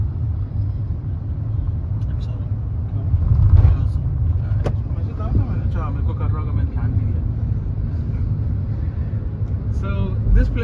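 A car drives slowly through an old Mumbai neighborhood lined with old houses and buildings, its steady low engine rumble continuous throughout with faint street noise, while a person talks over it.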